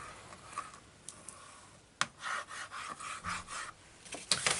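Paper being burnished down onto a pocket in a handmade oriental-style journal: quiet, close rubbing strokes, a series of short scratchy swipes with small taps, soft and irregular.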